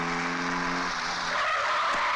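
A car's tires screech as it brakes hard to a stop, with a loud skidding squeal over steady road noise and a brief engine tone early on.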